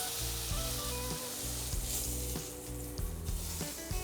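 Pork chops fry in a pan with a close, crackling sizzle, broken by low thumps and scrapes as the pieces are moved. The sizzle continues under the knocks, with no talking.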